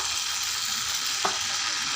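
Onion uthappam batter sizzles on a hot griddle, a steady, loud frying hiss with a single faint scrape partway through and no voices.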